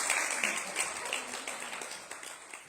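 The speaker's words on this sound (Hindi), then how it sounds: "ताली बजानी शुरू कर दी।" An audience at an evening program at a Ram Mandir in Narela, Delhi claps, a faint, fairly distant patter of applause lasting the whole moment.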